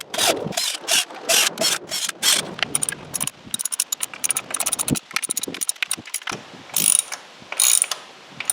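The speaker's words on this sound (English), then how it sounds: "Now install the cover using the provided fasteners." Fasteners are driven in to secure a Zipwake cover on a boat transom, with a rapid ratcheting, clicking tool rattling in close, uneven bursts.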